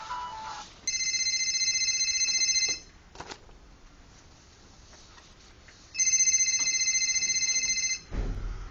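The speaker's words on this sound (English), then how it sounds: "Suddenly, her phone rings." A mobile phone rings in a quiet yard beside a grotto, two electronic ringtone bursts separated by a pause, clear and fairly close with little else around.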